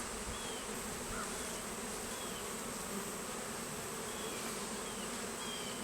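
Honeybees swarm around an open beehive during a brood frame inspection, making a steady, dense, close buzz that fills the whole stretch with no talking.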